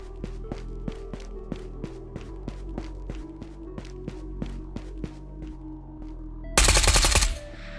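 Rapid gunfire from the Ghosts of Tabor video game crackles in a steady string of evenly spaced shots, moderately distant, ending in a short loud burst of noise.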